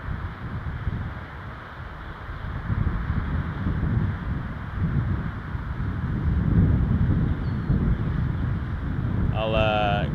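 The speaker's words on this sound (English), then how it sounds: "Definitely a bit windy, Deb, as well." Steady low wind buffets the microphone outdoors at Toronto Pearson Airport throughout, a rough continuous rumble, with a short chirping sound near the end.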